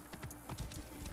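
Horse hooves in the video game Assassin's Creed Origins: a quick, steady clip-clop of a trotting horse, moderately close, with faint ambient sound behind it.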